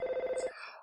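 Telephone ringing in the video game Earthbound as the dad calls, a quick pulsing electronic ring that stops abruptly, followed by a brief chime-like tone fading out, with no talk.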